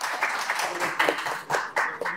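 An audience claps loudly during a television interview about hypnosis, a continuous, fairly dense patter of hands with uneven bursts, close and moderately loud, with a voice faintly mixed in.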